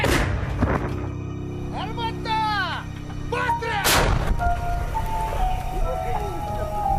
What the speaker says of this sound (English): They are firing 152mm howitzers.